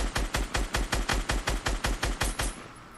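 Rapid assault rifle fire in Fortnite Battle Royale, a burst of about a dozen evenly spaced loud shots over two and a half seconds, then a short fading tail.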